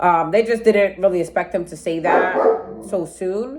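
A pet dog barks in short yips at home while a person keeps talking over it. The barks sit close and partly under the steady speech.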